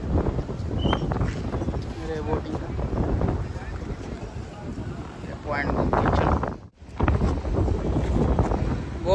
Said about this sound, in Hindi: हवा चल रही इधर, बहुत तेज हवा है